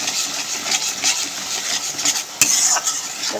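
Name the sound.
stirring fish curry in a pan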